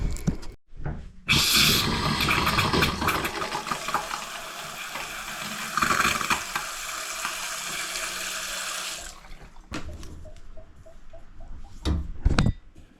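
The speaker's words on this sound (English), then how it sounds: "Ready for turning the water back on now." Water rushes back through household pipes after the supply is turned on, a loud steady hiss and gurgle lasting several seconds before it gives way to scattered knocks and clunks.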